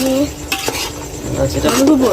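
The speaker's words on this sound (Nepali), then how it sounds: "टक्क भुट्ने है टक्क चलाउने" Potatoes frying in a pan over a firewood fire are stirred briskly, with close scraping and clinking of the spoon over a steady sizzle.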